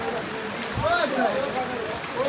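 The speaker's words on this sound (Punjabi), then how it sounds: "ਬਾਰਿਸ਼ ਬਹੁਤ ਹੋ ਰਹੀ ਬਾਈ ਮੀਂਹ ਬਹੁਤ ਪੈ ਰਿਹਾ" Heavy rain falls steadily along the Hemkund Sahib pilgrimage trail, a dense hiss that fills the whole scene. Faint voices and movement can be heard beneath it.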